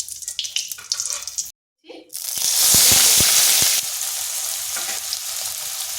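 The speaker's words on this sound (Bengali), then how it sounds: "তেলটা গরম হয়ে গেছে, এখানে ফোড়নে দিচ্ছি একটা তেজপাতা আর একটা শুকনো লঙ্কা।" A bay leaf and a dried red chili drop into hot oil, setting off a loud, close sizzle after a short pause, with scraping stirs beneath and a quieter crackle carrying on; talk is heard before the burst.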